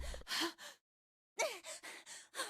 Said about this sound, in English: And then we got the voice acted panting